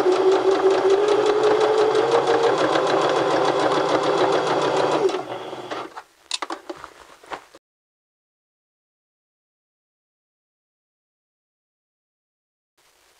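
A sewing machine stitches fabric steadily for about five seconds with a fast, even mechanical whir, then stops, leaving a few short clicks and a brief rattle before silence.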